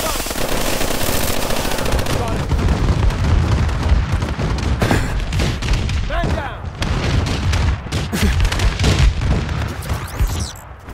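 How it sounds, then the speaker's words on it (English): Enemy bombing overhead in the video game Call of Duty: Advanced Warfare, a dense, loud barrage of rapid gunfire, booms and explosions that continues nonstop throughout, with a faint game voice mixed in. "Enemy bombing right overhead!"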